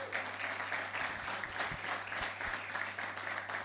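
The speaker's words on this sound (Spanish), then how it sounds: "Den un fuerte aplauso al Señor entonces." A church congregation claps loudly during a sermon, a dense, continuous round of applause with no voices over it.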